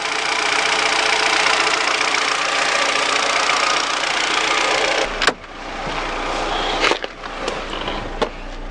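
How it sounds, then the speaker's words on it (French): A rebuilt Ford Zetec 1.25-litre 16-valve car engine idling after a road test, a steady close mechanical hum that runs evenly, then drops sharply in level partway through, followed by a few clanks and knocks. "il y a donc le moteur qui ronronne,"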